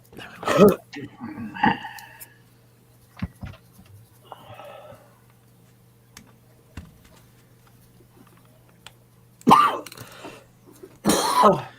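A few short coughing or throat-clearing bursts, close, separated by long quiet gaps with some faint speech-like sounds in between.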